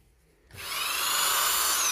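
A used 210W electric drill, non-reversing, starts up after half a second of near silence and runs steadily at a loud, even, high whine with no talking.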